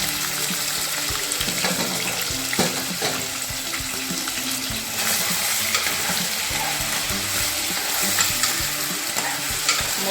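Food frying in hot oil during home cooking of a spicy mutton meal, a loud continuous sizzle with spattering pops and occasional clanks of stirring, no speech.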